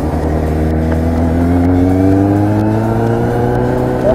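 A motorcycle engine holds a steady, loud drone, then its pitch climbs smoothly as the rider eases out the clutch in first gear and accelerates during a riding lesson.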